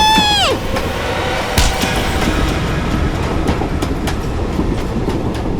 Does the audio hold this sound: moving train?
yes